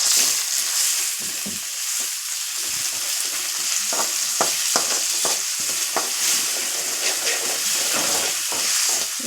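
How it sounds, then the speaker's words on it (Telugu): Broad bean seeds fry and get stirred in a pan, a steady close sizzle broken by frequent scraping spoon strokes throughout. "ఇవి కొంచెం పచ్చి వాసన పోయేదాకా వేయించాలండి విత్తనాలు కూడా."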